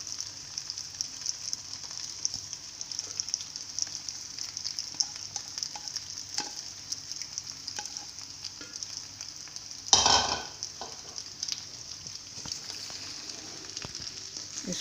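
A chicken, vegetable and macaroni mixture is stirred in a hot pan, giving a steady soft sizzle with light scraping and clicking strokes and one louder clattering scrape near the end, no talking.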